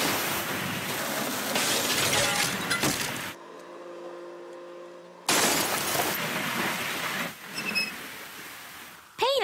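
In a cartoon, a high-pressure hose blasts window glass until it shatters: loud, sustained crashing and spraying noise, broken by a quieter gap, then resuming with more breaking glass.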